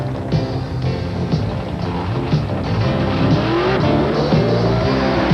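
A pro stock drag race car does a burnout at a 1985 world finals event, engine roaring loud and close with a sustained tire squeal and rising revs.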